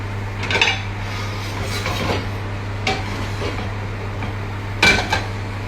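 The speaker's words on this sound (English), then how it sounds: "I'm just going to swap these 2 pans around" Cooking pans shifted around on a stovetop, producing a few separate metallic clanks and scrapes close by over a steady low hum, with quiet gaps between the knocks.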